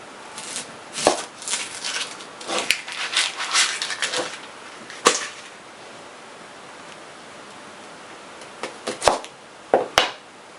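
Knife chopping vegetables into decent-sized chunks for a leftover-style soup, heard as scattered clusters of close, crisp cutting strikes with a quiet pause in the middle and a few sharp chops near the end.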